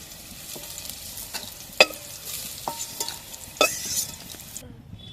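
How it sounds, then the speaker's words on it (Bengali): Bitter gourd slices frying crisp in hot oil, a steady sizzle with several sharp clinks of a spatula against the pan before the sound cuts out near the end. "উচ্ছেটাকে বেশ ভালো করে একটু কড়া করে ভেজে নিতে হবে"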